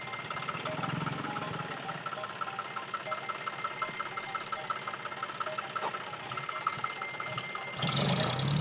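A vehicle engine idles while being pulled over to park at a roadside, a steady low hum with faint voices around it, ending in a louder rush of noise near the end.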